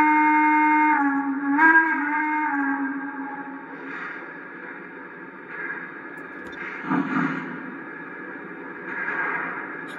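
A Lionel JLC model train steam whistle for a Chesapeake & Ohio H-7 2-8-8-2 sounds a long steady tone for a couple of seconds, then softer hissy chuffing and faint noises follow.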